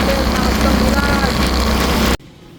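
Heavy rain pours down during a delivery ride, a loud, continuous broadband roar that drowns out everything else, then cuts off abruptly near the end.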